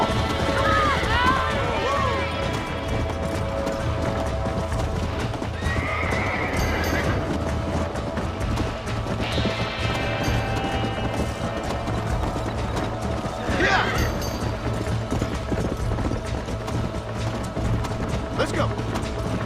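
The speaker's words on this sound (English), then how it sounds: "Hey, the stallion's getting away! Chase him down and bring him back!" A stallion in Red Dead Redemption gallops with rapid drumming hooves and lets out several loud neighs and whinnies, the whole run close and energetic, with a voice calling briefly over it.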